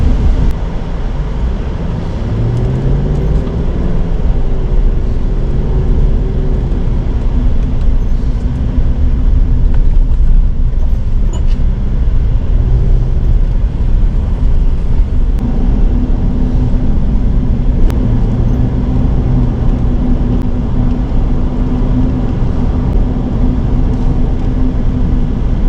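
A car cruises the streets of Baton Rouge with a steady low engine and road drone that fills the whole stretch, close and constant, with faint tonal swells as it shifts along and no talking.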